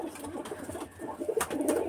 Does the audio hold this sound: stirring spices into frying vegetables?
no